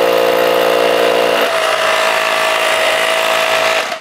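A hammer drill runs loud and steady, its pitch shifting partway through as it bores into brick, then winds down at the end.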